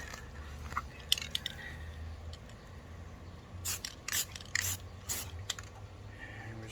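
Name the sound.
spray paint sprayed in quick bursts onto a straight edge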